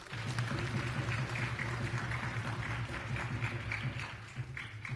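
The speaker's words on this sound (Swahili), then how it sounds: "Tumpigie makofi vizuri." A church congregation at a Kikuyu service claps steadily, a dense, continuous wash of applause from a crowd that holds at an even level throughout.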